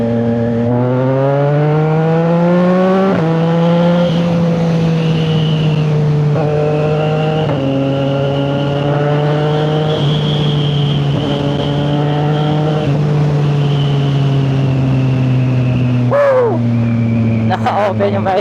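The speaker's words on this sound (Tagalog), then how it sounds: "ito na pala tunog na ating motor after ng remap" A CFMoto 675NK motorcycle with a remap and full-system exhaust revs loudly and close up, the engine note climbing and dropping through several strong pulls over a steady idle, with a sharp burst near the end.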